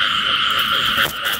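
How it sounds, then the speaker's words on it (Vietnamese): Frogs in a field at night, a dense, continuous high-pitched croaking chorus filling the background with a slight swell near the end, no voices. "quạch quạch quạch quạch, con ếch."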